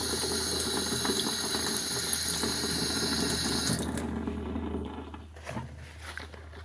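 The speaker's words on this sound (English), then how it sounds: "And then we'll just run the water on." Tap water runs steadily into a sink while paint brushes are rinsed, a continuous hissing splash that cuts off partway through, leaving a few faint drips and handling sounds.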